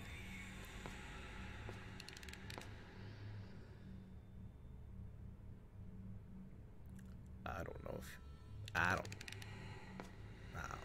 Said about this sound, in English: as soon as you hear that clicking sound